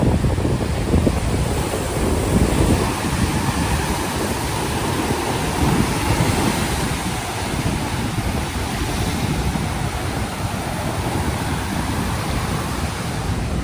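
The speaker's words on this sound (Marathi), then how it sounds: "लाटा खूप वेगाने वाहत आहेत" Rough, churning sea surging at Ganpatipule beach, a loud, constant roar of surf with heavy wind buffeting the microphone and no distinct individual wave breaks.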